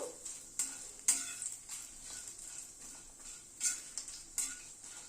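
Five-spice and asafoetida crackling in hot oil over a low flame, with quiet sizzling under a handful of distinct metallic clinks and scrapes of a spoon against the pan, close and soft.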